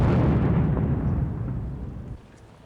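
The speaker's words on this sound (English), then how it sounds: "we are putting a shape charge into the floor of the basement that will blow down" A shaped charge blasting down through a concrete basement floor during the 2003 Iraq war, a single loud close boom that rumbles and slowly fades over a couple of seconds.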